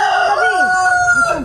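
Chicken clucking and crowing close by, with bright warbling calls rising and falling across the short span, loud and alone with no talk.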